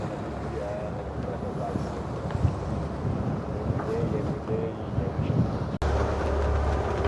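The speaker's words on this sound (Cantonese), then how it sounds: "海上邊而家個風浪咧係唔係好大嘅啫，2至3海里。" Wind rushes past a sailing yacht at sea in 2–3 knots of swell, a steady broadband roar with low rumbling wash and gusty surges, loud and close, with a brief dropout near the end.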